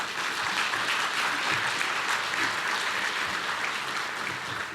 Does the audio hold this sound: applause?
yes